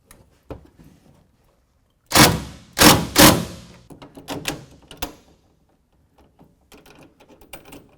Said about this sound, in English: we're going to go ahead and tighten that down with a 14 millimeter or 9/16 socket.